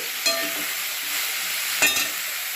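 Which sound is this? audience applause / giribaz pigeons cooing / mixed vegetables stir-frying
mixed vegetables stir-frying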